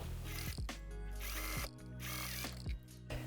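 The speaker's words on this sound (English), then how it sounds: "I'm gonna sew from down here all the way to the point." A sewing machine stitches a dart on a dress, its motor whirring in steady bursts that start, stop and restart several times at close range, with no talking.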